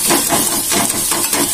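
Onions frying on high flame while being stirred continuously for biryani, a loud close hissing sizzle that swells and fades in rhythmic waves as they are tossed, with no voices.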